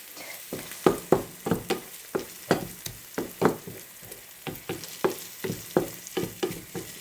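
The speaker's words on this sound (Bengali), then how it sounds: "এটা একটু পরপর আর কি নাড়তে হবে, নাড়তে নাড়তে অনেকটা হয়ে আসবে।" Beetroot bhaji stirred in a frying pan, a regular series of scraping stirs, each one close and distinct, over a soft constant sizzle.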